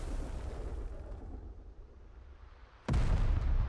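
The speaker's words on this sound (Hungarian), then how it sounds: "Gyerekek, ezek ágyúval lőnek rá?" A single heavy cannon blast booms suddenly and loudly in the pirate-themed video game Out of Reach: Treasure Royale, following a stretch of low rumbling ambience.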